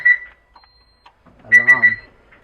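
A car alarm gives a few sharp electronic beeps as the car is started, with a brief pause before a final cluster of three bright tones, close and loud, and a voice murmuring faintly underneath.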